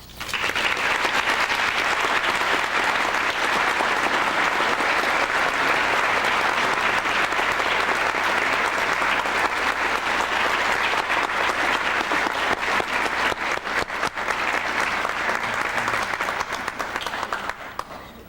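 Sustained audience applause fills a school celebration, a dense, even roar of many hands clapping for well over fifteen seconds, loud and unbroken before tapering slightly at the end.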